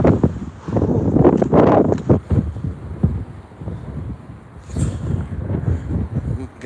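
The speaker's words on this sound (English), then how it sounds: "Getting more windy as time goes. It's now gusting 42" Strong gusting wind at Newcastle airport buffeting the microphone in loud, uneven surges, easing briefly around the middle before picking up again, with no speech over it.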